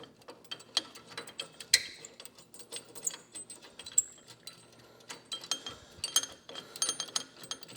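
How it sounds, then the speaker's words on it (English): Ratchet wrench clicking rapidly in short bursts while backing a bolt out of a frame-mounted motorcycle highway peg mount, close and fairly quiet with faint metallic clinks. "Now I'll finish taking this bolt out here."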